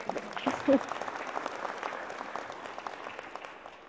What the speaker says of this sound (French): On peut également l'applaudir.